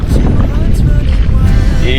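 Wind gusting across open water around a small fishing boat after a typhoon, a steady loud rushing roar buffeting the microphone, with a voice talking over it.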